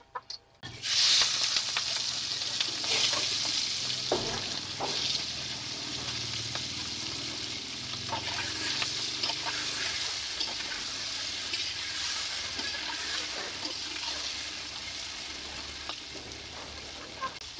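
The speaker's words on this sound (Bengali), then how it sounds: "তেলটা গরম হয়ে গেছে, এখন মাছগুলো ভেজে নেব" Prawns frying in hot oil in a home kitchen, a steady close sizzle and crackle running throughout with occasional louder pops and stirring clatter.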